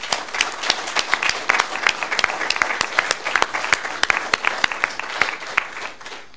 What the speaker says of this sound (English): So I'd like everyone to give a loud applause to them.